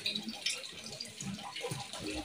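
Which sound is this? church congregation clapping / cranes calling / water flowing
water flowing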